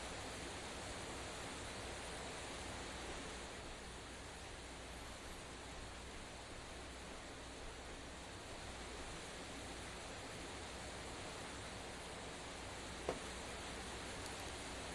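A waterfall in the virtual world Second Life gives a steady, even rush of falling water, continuous and moderately quiet throughout with no voices.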